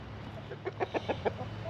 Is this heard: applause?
no